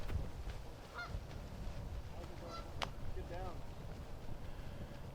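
A Canada goose honks a few times on an outdoor disc golf course during a tournament round, the calls fairly distinct over steady wind and background noise, with voices present.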